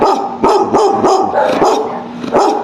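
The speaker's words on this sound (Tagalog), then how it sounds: "Ayan, may aso. May Tahol pa." A dog barks repeatedly at close range, a quick string of sharp, loud barks with short pauses between them.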